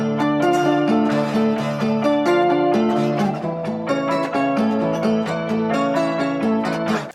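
Several pitch-shifted, differently processed guitar recordings layered into one dense sustained texture, with steady chord-like tones playing continuously and loud throughout with no talking.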